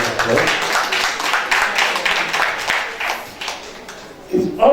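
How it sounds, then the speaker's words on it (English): Audience applause at an investiture and executive committee induction ceremony for quantity surveyors, honouring three women council members; scattered clapping with overlapping talk, fairly steady then dipping before a brief louder burst at the end. "Can we give them a round of applause?"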